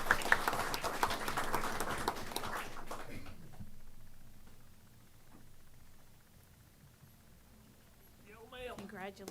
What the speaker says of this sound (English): let's give all these National Board Certified Teachers and Renewal Teachers a big round of applause